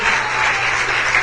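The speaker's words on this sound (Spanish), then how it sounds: "¿Por qué no le da un fuerte aplauso al Señor?" Short burst of dense congregational applause at an evangelical church service, loud and continuous throughout with no gaps.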